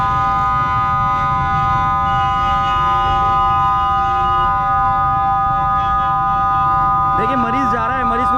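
A siren, likely from an ambulance caught in a rain-hit Karachi traffic jam, holds steady tones throughout, then switches to a rapid warbling wail near the end, loud over street noise.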